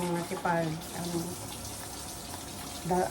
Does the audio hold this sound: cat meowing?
no